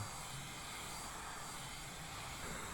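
A vacuum cleaner runs with a constant, airy roar and a thin high whine, steady throughout with no voices.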